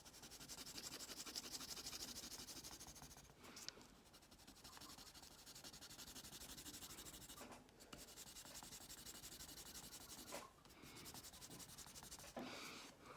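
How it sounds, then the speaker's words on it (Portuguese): A pencil pressed hard on paper shades in texture, a soft continuous scratchy rub that goes on with brief pauses between strokes, close and quiet with no voices. "Tô apertando bastante o lápis aqui para ele dar bastante textura aqui no meio."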